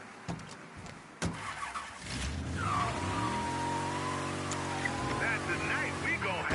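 Car engine in the video game Mafia III, revving up and running steadily with rising and falling tones, loud and continuous after a brief thump, with talk over it.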